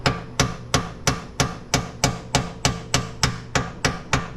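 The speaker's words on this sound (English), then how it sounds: "bang that bolt through the other side" A ball peen hammer strikes a bolt on a Lexus SC300/SC400 rear toe link install in twelve evenly spaced sharp metallic bangs, loud and close with no talk.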